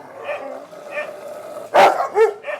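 A dog barks at an animal shelter: two sharp, loud barks near the end ring out above a steady murmur of background noise and fainter earlier yips.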